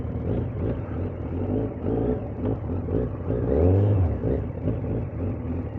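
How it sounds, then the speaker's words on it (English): A 2008 Yamaha FZ1 motorcycle engine idles with a rough, throaty rumble, then revs up briefly before settling back to idle. "Yeah, you hear me revving it up."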